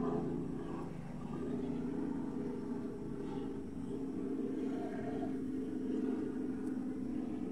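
A helicopter passes over farmland, heard as a steady, fairly distant low rotor rumble that holds for the whole stretch with no other clear sounds.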